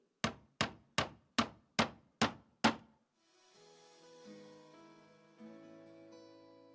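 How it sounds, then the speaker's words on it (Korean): Seven sharp, evenly spaced hammer blows on wood, loud and close with a hard ringing attack, followed by a soft melodic music bed with no voices. "맨날 뚝딱뚝딱 망치 소리."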